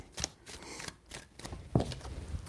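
Tarot cards are shuffled by hand in quick, quiet riffling bursts, a soft papery flutter repeated several times close to the microphone.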